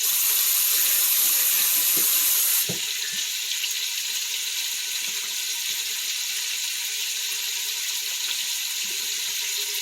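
Hands are rinsed under a running kitchen tap. A strong, steady water stream splashes loudly at first, then continues as a softer, even flow for the rest of the clip, with no speech.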